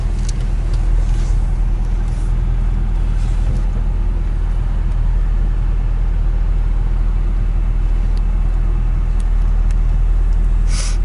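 A 1987 Toyota pickup truck engine heard from inside while driving, a steady loud low rumble with road and wind noise throughout and a few faint clicks, no speech.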